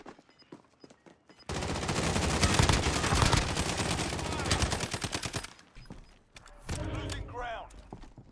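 Dense automatic gunfire from several players in a Warzone battle, a loud sustained burst of rapid shots, then a pause and a second shorter volley, with a voice speaking briefly.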